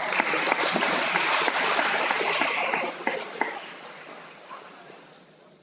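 Applause for award recipients at a high school awards ceremony, a steady wash of clapping from the audience that fades away over the last few seconds.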